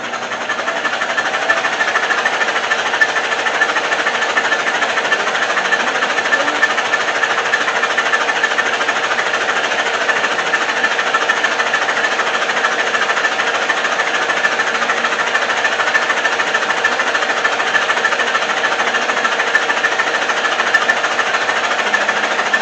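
Toyota 22R engine spun on a test stand, a steady, fast mechanical rattling whir that stays loud and unchanging throughout, heard close with no talk.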